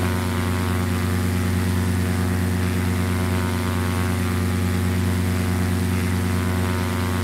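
Single-engine Cessna propeller engine from Flight Simulator X drones on loud and constant, a dense steady buzz with strong harmonic hum and no breaks or voices.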